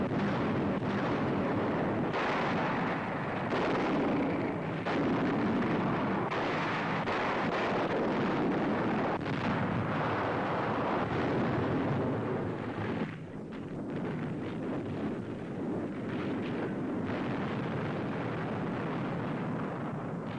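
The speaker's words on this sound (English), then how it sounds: "Some bearing artillery and rocket guns already opening fire." Artillery and rocket guns fire from landing barges during the D-Day assault, a continuous loud rumbling barrage of blasts and booms over wind noise, with no clear individual shots standing out.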